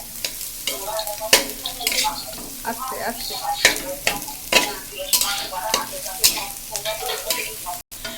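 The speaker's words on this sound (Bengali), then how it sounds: "সব রকম আবার সেই গাজর আর কফি ভাজা হচ্ছে" Carrots and cabbage stir-fry in a pan with onion and egg, crackling steadily while a spatula scrapes and tosses in repeated strokes. A voice speaks briefly underneath.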